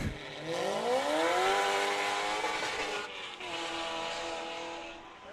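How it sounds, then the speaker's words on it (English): A C7 Corvette race car at Laguna Seca revs upward with a rising engine note, holds at a buzzing limiter-like plateau, then drops and fades somewhat, heard at a moderate distance without talk. "Hitting the rev limiter there in the C7 Corvette."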